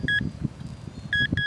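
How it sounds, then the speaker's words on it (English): Metal detector sounding a high tone signal over iron-infested ground: clean electronic beeps in short bursts, a couple near the start and a repeated pair near the end, with soft digging and handling noise between. "but I have one nice high tone. It's ringing"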